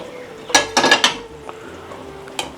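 Spoon clanks and scrapes around a pot as spring onion is stirred into boiling corn prawn soup, a cluster of close metallic clinks followed by quieter bubbling and one more clink near the end.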